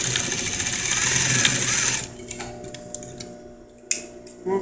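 Sewing machine running a second seam on a velvet belt, a loud steady stitching whir for about two seconds, then stopping into quieter ticks and small clicks.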